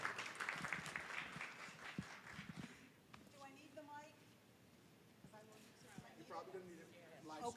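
An audience at a community focus group claps in a brief burst of applause, followed by a person speaking in a quiet room.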